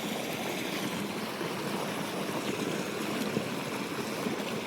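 Irrigation water running into a cumin field on a farm, a constant rushing flow heard outdoors and fairly loud, with no talking.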